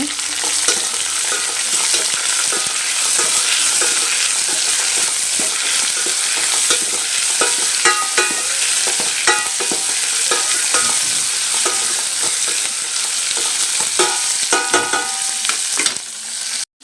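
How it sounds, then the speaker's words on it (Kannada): Onions fry in a pan with loud, steady sizzling and frequent stirring clatter from a utensil, close up and continuous, with no talk. "ನೋಡಿ, ಇವಾಗ ಚೆನ್ನಾಗಿ ಫ್ರೈ ಆಗಿದೆ ಈರುಳ್ಳಿ ಎಲ್ಲ"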